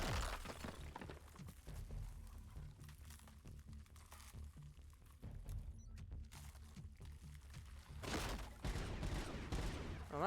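Bursts of gunfire aimed at the player in the RoboCop: Rogue City video game, with rapid shots, crashing impacts and shattering debris that stay loud and busy across the whole stretch.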